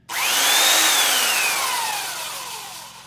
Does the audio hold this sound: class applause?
no